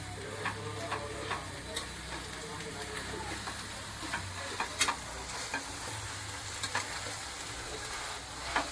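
Methi bhaji with ground masala paste being stirred in a pan, a steady soft sizzle with scattered scrapes and clicks of the spoon throughout, moderately quiet.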